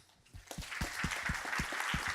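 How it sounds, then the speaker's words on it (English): Applause for a speaker at a social-good sharing event in Copenhagen, starting quietly and building into steady, moderate clapping from a crowd. "Let's give him an applause."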